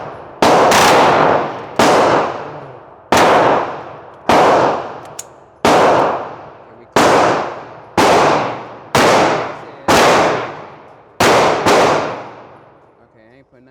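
Rapid semi-automatic gunfire from a TX22 rimfire pistol fitted with a Freedom Finger forced-reset trigger, about ten sharp, loud, evenly spaced shots with ringing decay, fired outdoors as a full magazine is emptied.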